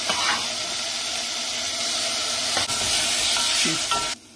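Chopped tomato, garlic and ginger fry in a pan with a loud, dense sizzle and a few scraping stirs, then the sound cuts off abruptly near the end.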